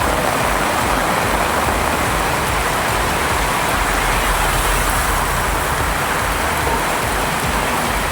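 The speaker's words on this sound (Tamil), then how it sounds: "சூறைக்காற்றுடன் கனமழை வெளுத்து வாங்கியது" Heavy rain driven by strong gusty wind, a dense, steady roaring wash of downpour that fills the whole stretch at high volume, with no voices.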